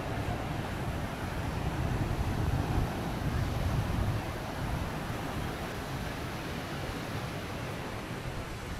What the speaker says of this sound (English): it's already too much wind for trick.